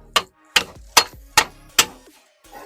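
A hammer strikes a Ford Fiesta axle bush five times in a steady rhythm, each blow a sharp, close metallic knock with a short ring, followed by a softer final tap.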